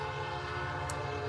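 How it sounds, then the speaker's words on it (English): A train passes with a continuous rumbling roar and layered tonal hum, heard at moderate loudness with no talking. "That's a train."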